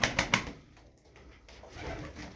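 Tumbler pigeons in a loft coo softly, three quick low pulses at the start and then a quieter murmur, with faint rustling that may be wing movement.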